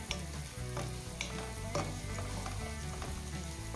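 Chopped large onions sizzle steadily in a hot pan for a prawn dish, a constant crackling fry with a few scraping stirs of a spatula.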